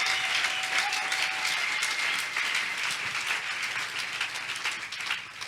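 A church congregation at an Easter service applauds loudly and steadily, dense continuous clapping with some cheering that holds for several seconds before easing slightly at the end.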